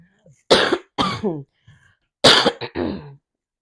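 Two separate bouts of harsh, throaty coughing, each a sharp burst trailing into rough voiced hacking, with quiet pauses in between.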